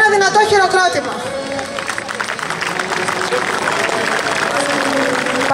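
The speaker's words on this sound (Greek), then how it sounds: "και ένα δυνατό χειροκρότημα." A crowd applauds at an award ceremony honouring a cathedral's chief cantor, a dense, sustained clapping rising after a voice at the start.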